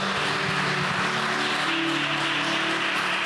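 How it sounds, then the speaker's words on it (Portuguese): A church congregation applauds during a Sunday service, a steady, continuous wash of clapping from many hands, fairly loud and even throughout, with no talking over it. "Dá uma salva de palmas ao Senhor"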